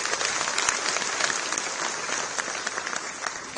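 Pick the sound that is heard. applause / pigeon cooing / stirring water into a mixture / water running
applause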